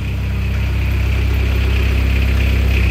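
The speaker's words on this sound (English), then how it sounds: "Here's your Kubota coming to life." Kubota diesel engine on a 2014 Moffett M55 truck-mounted piggyback forklift running at a steady idle, a loud, continuous low rumble with a faint vibrating buzz and no voices.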